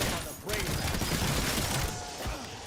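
A heavy automatic gun in Call of Duty: Black Ops 7 Zombies fires in a sustained, loud stream of overlapping shots, a near-continuous roar with a brief dip partway through, while a voice talks over it.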